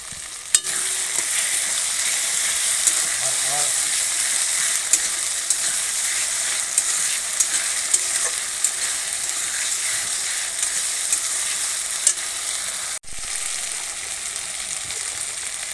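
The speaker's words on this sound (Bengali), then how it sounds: "এই টমেটো পেস্টটা দিয়ে দিচ্ছি" Tomato paste fries in a pan with a steady, close sizzle, and a utensil stirring it makes repeated scraping clicks and knocks throughout.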